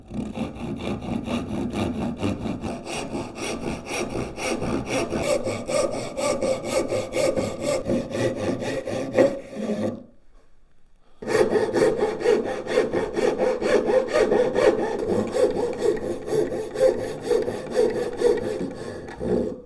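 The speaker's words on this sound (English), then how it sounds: "we've cut the dovetail and we've cut the half lap" A hand saw works through wood for a dovetail half lap joint with steady, rapid rasping strokes. Close and continuous, it pauses briefly midway and then resumes.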